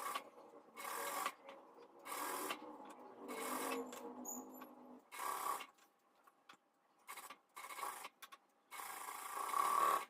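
A sewing machine stitches an Afghani salwar with a half-inch seam margin, running in repeated short bursts of rapid needle clatter separated by brief quiet pauses.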